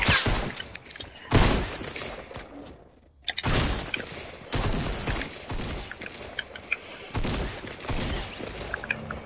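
Fortnite gunfire comes in loud, close bursts of rapid shots, broken by short pauses, with clattering impacts and game effects between the volleys.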